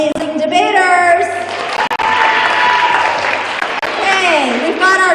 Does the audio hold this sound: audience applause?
yes